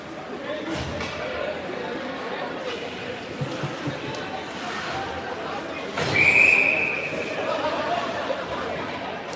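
A referee's whistle blows a bright, short blast at a junior ice hockey game between the Kanata 67s and the Ajax Pickering Raiders. It cuts through the steady crowd chatter and arena hubbub.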